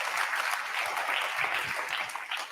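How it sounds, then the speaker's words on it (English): An audience applauds after a contestant is eliminated at an innovation food-pitching event, a steady wash of many hands clapping that holds for a couple of seconds with no one speaking over it. "Round of applause for microbial."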